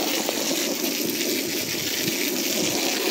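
A hose sprays and splashes water while a duck kennel is washed out, a steady loud hiss of spattering water running unbroken throughout.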